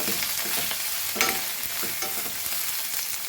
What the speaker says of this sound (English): and our onions and our chili. So fry this till it is nicely soft.